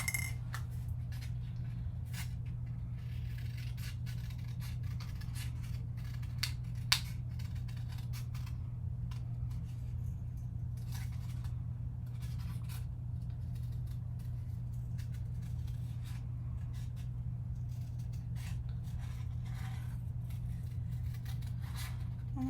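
Scissors snip through a paper sentiment being fussy cut for a Halloween spider web card, giving soft, scattered clicks and crisp cuts over a steady low electrical hum.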